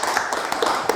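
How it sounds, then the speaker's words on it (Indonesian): A classroom of students claps for a group after its presentation, a brief burst of dense, overlapping hand claps close by. "tepuk tangan untuk kelompok 2"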